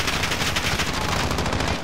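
Rapid automatic gunfire from a Call of Duty: Modern Warfare match, a dense, loud, continuous burst of shots with no pauses, filling the whole moment without voices over it.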